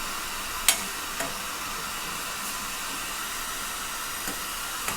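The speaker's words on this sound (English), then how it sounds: "So now I will add the ginger garlic paste. So, and again I will saute this for some time." Ginger garlic paste sautéing with browned onions in a pan for rajma masala gives a steady soft hiss and sizzle, with a few brief clicks of stirring throughout.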